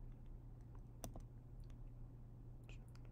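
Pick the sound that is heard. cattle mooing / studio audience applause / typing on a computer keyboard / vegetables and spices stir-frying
typing on a computer keyboard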